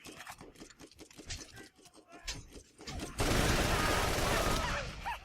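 An Ajax Spear with an Ogre accessory fires in Borderlands, first as rapid, uneven bursts of shots, then as a dense, loud, sustained barrage of gunfire over a roaring wash of sound.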